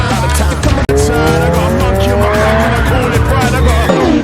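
Loud, close tire squeal from a car in a movie chase sequence in Fast & Furious, a long rising screech with engine roar that follows a brief cut, set against dense action sound and a voice speaking over it.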